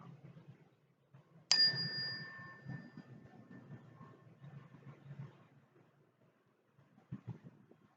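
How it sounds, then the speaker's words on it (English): A single bright bell strike rings out and slowly fades, its tone lingering over soft background rumble. "Raise your hands when you no longer hear the sound of the bell"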